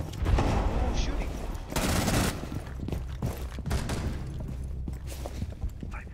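Video game gunfire rattles in heavy bursts, with loud rapid shots and machine-gun fire dominating throughout, a brief lull around the middle, and a voice talking faintly beneath.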